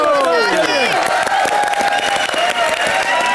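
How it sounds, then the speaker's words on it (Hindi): Studio audience on a Hindi comedy show set breaks into loud, sustained applause that stays dense and even throughout, with swooping tonal music or effects layered over the clapping. "जोरदार तालियां हमारे भोजपुरी"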